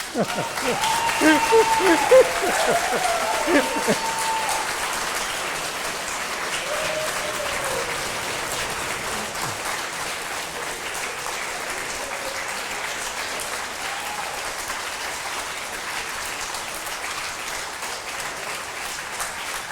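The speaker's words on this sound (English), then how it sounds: "I would ask you to give him a round of applause" An audience claps at the close of a valedictory lecture, a dense wash of applause that starts loud and then holds steady for about twenty seconds. A voice speaks briefly near the start.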